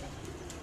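A Royal Teddy pigeon at a bird market in Pakistan gives a brief, low coo, close by against a dense background hum.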